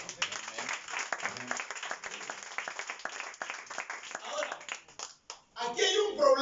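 Church congregation clapping during a sermon, a lively patter of many hands in uneven rhythm at moderate distance, with voices mixed in and a louder burst toward the end.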